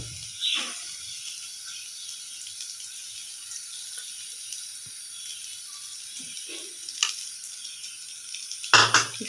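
Bread frying in a frying pan, a steady hiss of sizzling with a few louder handling knocks and scrapes at the pan, no voices.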